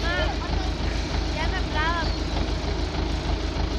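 An MTZ tractor engine runs steadily with a trailer hitched, a continuous low rumble close by throughout, with people talking over it.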